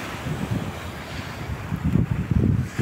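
Wind buffets the microphone on a beach near Montevideo, with a low rumbling roar and surf surging louder toward the end; no one speaks.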